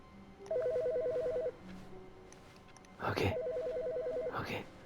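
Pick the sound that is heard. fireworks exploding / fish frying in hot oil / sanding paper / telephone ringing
telephone ringing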